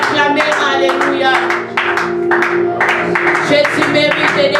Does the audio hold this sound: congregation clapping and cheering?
yes